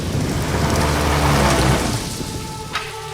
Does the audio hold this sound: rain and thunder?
yes